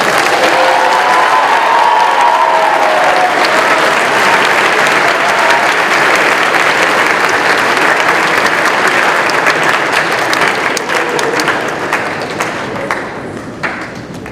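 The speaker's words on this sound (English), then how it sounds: "can we have one more round of applause for them?" A school fashion show audience gives a long, loud burst of applause with some cheering, sustained throughout and tapering off slightly toward the end.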